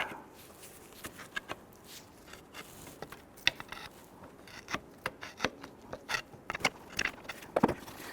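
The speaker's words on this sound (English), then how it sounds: "grab a pry bar, go between the alternator, and we'll just kind of start to work that free a little bit" A pry bar works an alternator loose in the engine bay of a 2006-2012 Toyota RAV4 3.5L V6, producing irregular metallic clicks, knocks and scrapes close by, sparse at first and then bunching into quicker clusters.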